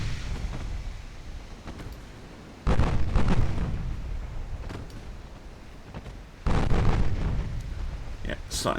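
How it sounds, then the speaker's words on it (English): Twenty 8-inch naval guns firing in a video game, heard as two heavy salvos, each a sudden loud blast that rumbles and decays over several seconds, with a low background hum between them. "Start firing all 20 8-inch guns at it."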